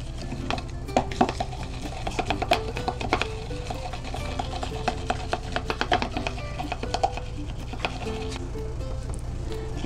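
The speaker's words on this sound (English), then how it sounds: "So once you've mixed your Xanthan gum, 2 grams of Xanthan gum with 5 grams of glycerin" Xanthan gum being stirred into glycerin for a homemade hair gel, with a utensil clinking and scraping against a small container in quick irregular taps over a steady low hum, close and moderately loud.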